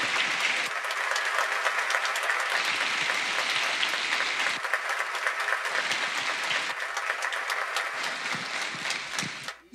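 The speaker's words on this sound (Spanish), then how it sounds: "Pido un fuerte aplauso para ellos, que hacen posible que se dé todas las noches." Audience applause at a live talk show, dense and loud clapping that swells in waves and continues for about ten seconds without speech.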